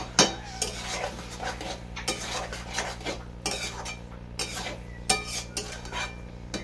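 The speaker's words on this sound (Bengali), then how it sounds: "গরম মশলাটা দিয়ে আবার নেড়ে নেবো" Cabbage curry stirred in a pan after garam masala goes in, a metal spoon clinking and scraping against the vessel in irregular knocks and sweeps, close and clear over a steady low hum, with no talking.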